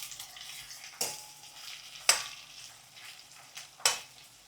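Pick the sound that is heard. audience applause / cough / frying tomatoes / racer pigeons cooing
frying tomatoes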